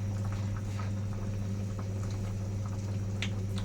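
Fish curry simmers in a pot with a steady low bubbling and faint ticking pops, a continuous close hum underneath, no voices.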